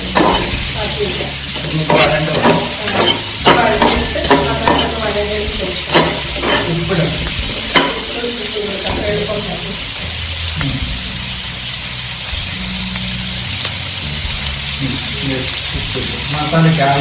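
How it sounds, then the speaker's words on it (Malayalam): Onions and green chillies for a chicken masala sauté in a pan, with a constant loud sizzle and frequent close-up stirring and scraping throughout. "മസാലയ്ക്ക് ആവശ്യമുള്ള ഉള്ളിയും പച്ചമുളകും എല്ലാം വഴണ്ട് നല്ല"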